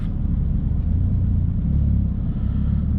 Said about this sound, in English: there's a little boy racing next to me, so let's just let him blast off